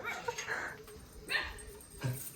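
A dog at home gives a few short yips and barks spread across a couple of seconds, moderately near, with whimpering between the calls and a little background noise.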